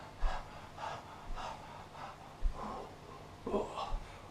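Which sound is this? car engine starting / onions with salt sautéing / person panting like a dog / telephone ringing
person panting like a dog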